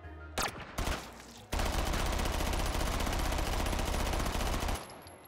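A Spectre M4 submachine gun fires in the VR game H3VR, with a couple of short bursts and then a long sustained full-auto stream of rapid shots that stops abruptly.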